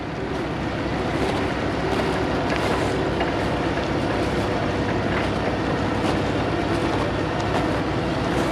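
A giant skidder engine hauls a Ford F-250 truck uphill, a loud, steady, unbroken mechanical roar and rumble that stays dense and constant throughout with no voices.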